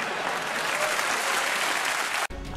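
A burst of crowd applause plays during a Minecraft BedWars match, steady and fairly loud for about two seconds before cutting off abruptly as a voice begins.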